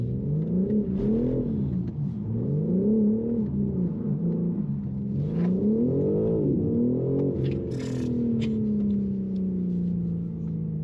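A BMW G82 M4 xDrive with all-wheel drive and traction control switched off accelerates hard, its engine note climbing and dropping through gear changes in a loud, steady, close interior roar.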